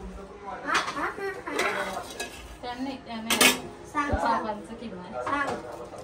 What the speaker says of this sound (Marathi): हे बघा, भांडी पण घसले इकडं.